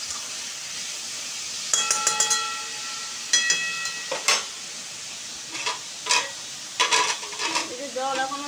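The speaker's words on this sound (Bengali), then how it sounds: "পেঁয়াজে একটু হালকা লবণ দেবো, তাহলে তাড়াতাড়ি ভাজাটা হয়ে যাবে।" Onions frying in a pan for a home chicken biryani give a low hiss, broken by several sharp scraping stirs and brief clattering bursts of utensil on pan, with no voices.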